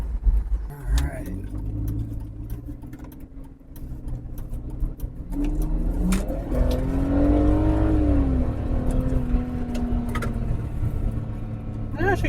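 A 2004 BMW E46 330ci engine revs up and settles back at close range, its steady drone rising in pitch and easing down, with someone talking over it.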